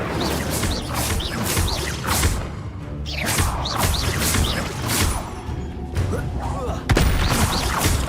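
Incendio fire spell cast repeatedly in the video game Hogwarts Legacy, a run of loud whooshing, crackling bursts with sharp impacts, layered over dense game battle noise throughout.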